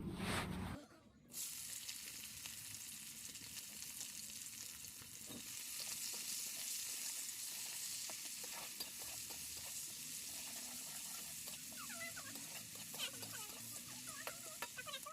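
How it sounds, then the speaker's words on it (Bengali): Onions hit hot oil in a pan over a wood-fired clay stove, a brief clatter followed by a steady, loud sizzle and crackle that continues throughout, with occasional stirring scrapes and faint chickens clucking in the background. "তেলটা গরম হয়ে গেছে, এখন আমি এর মধ্যে পেঁয়াজ দিয়ে দেবো।"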